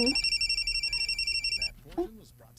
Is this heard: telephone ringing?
yes